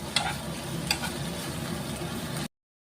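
Chopped okra frying in a pan, a continuous crackling sizzle with a couple of sharp clicks from stirring, close and steady, stopping abruptly.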